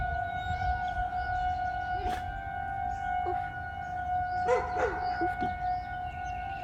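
A tornado warning siren wails outdoors on a weekday morning, its steady sustained tones carrying continuously through the whole stretch over low background noise, with a few faint bird calls breaking in.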